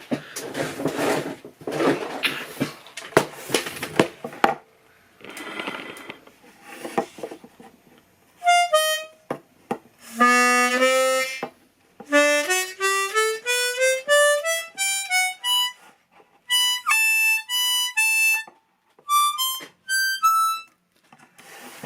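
Scraping and rubbing noises give way to a series of separate harmonica reed tones on a tuning table, each held briefly at a different pitch, one after another with short gaps.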